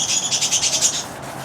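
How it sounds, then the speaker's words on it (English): Several parakeets chirp in a rapid, evenly pulsed run of shrill calls at moderate distance, then break off into quiet room noise; the setting is a home workshop where copper pipe is being cleaned and soldered. "the noise you hear is some parakeets"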